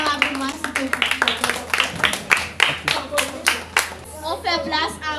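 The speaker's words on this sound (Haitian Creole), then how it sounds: "Applaudissez Sarah pour moi, s'il te plaît." An audience claps for a young singer at a children's book event, with brisk, scattered applause in uneven bursts and a voice speaking over it, followed by children's chatter.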